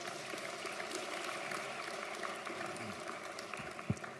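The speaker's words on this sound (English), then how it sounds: "So please give him a round of applause." A conference audience claps in a soft, steady wash of applause that sounds distant and faint, with a low hum underneath and a single sharp knock near the end.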